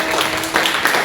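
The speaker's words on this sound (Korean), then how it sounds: "우리 하나님께 영광의 박수를 드립니다." A church congregation at a military unit service applauds, a dense, steady wash of clapping that fills the whole short moment without pause.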